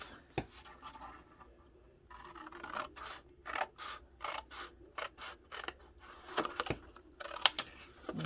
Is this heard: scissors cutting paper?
yes